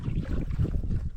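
Strong wind buffeting the microphone while fishing from a small boat at midday, a loud steady low rumble with gusty bursts throughout and no speech.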